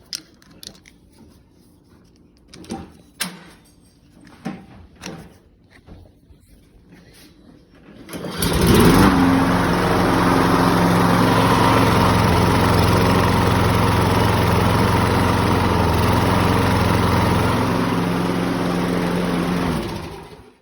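A Briggs & Stratton small engine fitted with an auto choke carburetor is handled with a few clicks and knocks, then fires up and settles into a loud, steady idle that runs close and unbroken to the end.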